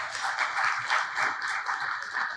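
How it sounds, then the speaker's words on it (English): An audience claps together at the close of a ceremony, a dense, steady patter of many hands at moderate loudness, sustained with no voices. "Can we clap for ourselves, please?"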